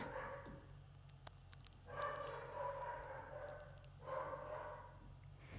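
A single dog barks outside near a house in the morning, faint and distant, in a few short bursts with rough, loud stretches around two and four seconds over a steady low hum.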